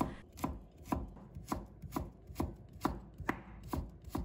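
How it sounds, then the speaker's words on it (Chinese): Knife strokes chop through a peeled piece of fresh ginger on a board, slicing it and then cutting it into thin shreds. About nine crisp, evenly spaced chops land close and clear with no talking. "准备1块去了皮的生姜，把它切成片， 再改刀切成姜丝。"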